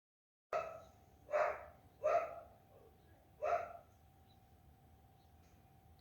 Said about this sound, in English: I'm waiting for the dog to finish barking.